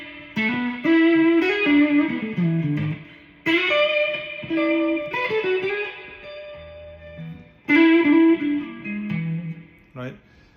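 Distorted electric guitar in a bluesy style plays cranked-up phrases, with sustained bent notes, slides and pauses between loud bursts.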